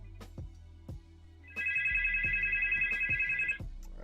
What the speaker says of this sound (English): answer the phone line